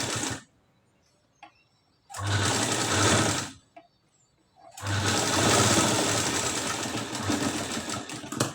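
A sewing machine stitches a katori blouse in two bursts, a short run and then a longer steady whirring run, loud and close with a near-silent pause between.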